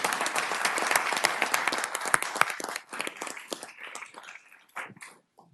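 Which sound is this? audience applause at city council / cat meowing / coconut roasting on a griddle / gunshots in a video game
audience applause at city council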